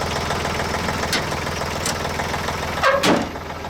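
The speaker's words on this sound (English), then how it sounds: "I'll just leave it run all day. It's a good running tractor." A tractor that was damaged by a fallen tree idles steadily with a loud, even engine drone and mechanical knock up close, with a couple of brief louder bursts near the end.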